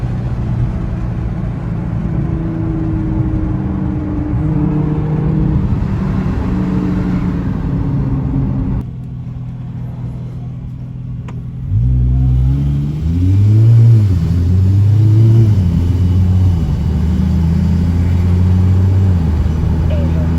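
Cheap, greasy Nissan R32 with mismatched headlights and no front bumper, its turbo engine revving loudly while driving, rising and falling close by for about twenty seconds, with a brief quieter lull midway.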